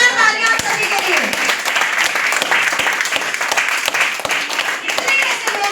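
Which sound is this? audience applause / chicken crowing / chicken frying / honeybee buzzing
audience applause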